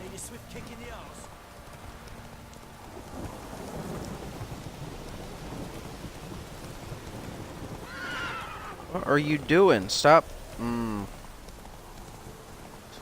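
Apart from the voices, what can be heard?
downpour rain in video game The Witcher 3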